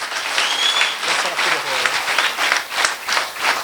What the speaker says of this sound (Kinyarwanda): Tukomereye Yesu amashyi menshi.